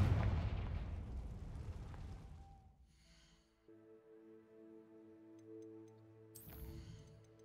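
A Confringo fire spell goes off in Hogwarts Legacy: a loud burst of explosive noise that fades, followed by a sustained ringing magical tone and a second sharp burst near the end.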